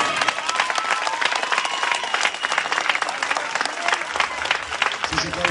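Audience applause at a Greek tribute concert honoring a singer, a dense, steady wash of clapping from a crowd that continues evenly throughout, with some indistinct voices mixed in.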